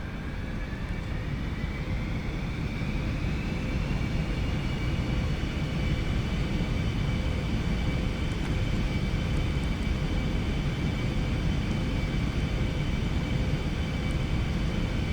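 Steady, droning aircraft engine noise from a plane in the X-Plane 11 flight simulator, flying in the Southern Alps between Sion and Courchevel. A constant low roar sits under a faint whine and stays even throughout, with no talking.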